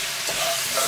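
Pork belly sizzles steadily in a hot pan over medium-low heat while being stirred, a close, continuous crackling hiss.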